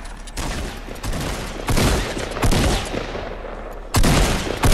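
Gunfire in the Fortnite Battle Royale video game, a dense, steady stream of rapid shots and bursts with several louder crashes, continuous throughout with no talk.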